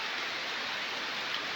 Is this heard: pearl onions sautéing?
no